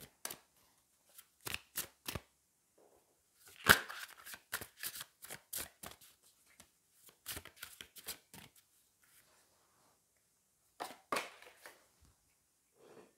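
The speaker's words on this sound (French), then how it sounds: "on va aller prendre une carte oracle, on va aller prendre le Elki" Oracle cards are shuffled by hand in a quiet room, crisp papery riffles and flicks arriving in short bursts separated by pauses, close and fairly soft.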